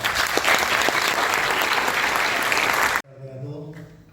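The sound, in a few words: audience applause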